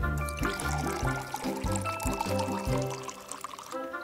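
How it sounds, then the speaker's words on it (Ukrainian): Hydrogen peroxide poured into a mixture of dye and yeast, a gurgling liquid stream with rhythmic glugging pulses, close and fairly quiet, running steadily for a few seconds. "А тепер додаємо сюди до нашого цього прекрасного коктейлю перекис водню."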